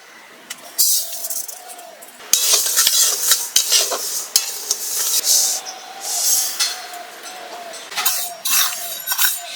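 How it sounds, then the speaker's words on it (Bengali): About 200 grams of lentils for khichuri dry-fry in a pot while a utensil stirs them, giving bursts of scraping rustle and light metallic clinks over a soft sizzle. "এখন আমি ডালটা ভেজে নিচ্ছি।"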